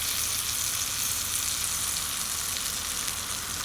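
Polish kielbasa and onions frying on a wood gasifier stove, a dense, even sizzle held close and steady throughout with no talking.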